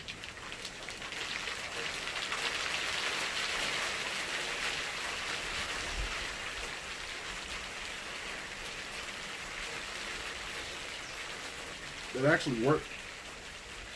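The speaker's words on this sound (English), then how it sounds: "I know y'all can hear the rain picking up." Steady rain pours down throughout, a dense hiss on surfaces, with a person briefly speaking near the end.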